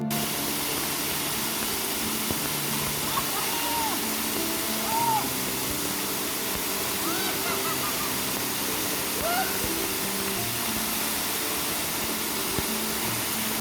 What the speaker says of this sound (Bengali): ঝর্ণার পানি এত স্পিডে পড়তেছিল